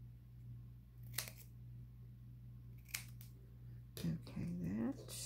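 Scissors cut through scrap paper in a few short crisp snips, close and quiet over a low steady hum, followed by a soft voice speaking.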